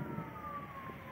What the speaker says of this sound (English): Now we're hearing the ambulance in the background.